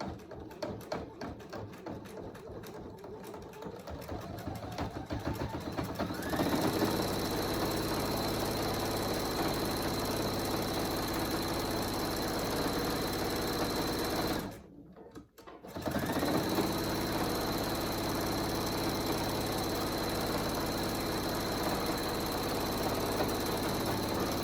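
Sewing machine stitching a seam along a fabric ramp cover, a steady close mechanical whirr running continuously with one brief pause before resuming.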